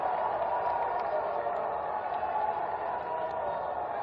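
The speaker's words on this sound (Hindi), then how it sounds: "एक बार हाथ उठाकर तालियां बजाकर उसका अभिनंदन किया जाना चाहिए इस सरकार का" A large crowd at a political rally addressed by Rajnath Singh claps and cheers in a continuous, even roar of applause that holds steady throughout.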